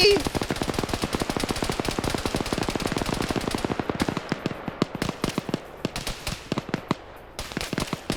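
Rapid video-game gunfire rattles in dense bursts of sharp shots, loud and close at first, then thinning into scattered pops with brief gaps.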